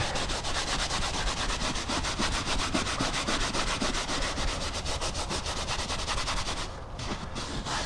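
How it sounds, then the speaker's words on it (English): Brush scrubbing BMW M3 car seats clean before dyeing, a close, steady rasping scrub with rapid rhythmic back-and-forth strokes throughout, briefly easing near the end; no talking. "All right, so now we're gonna go ahead and get scrubbing."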